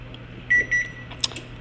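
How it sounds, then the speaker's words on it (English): A kitchen oven timer being set to sixty minutes gives a few short electronic beeps, two longer steady tones followed by quicker chirps, close by and clear over a quiet room hum. "we're gonna set the timer for 60"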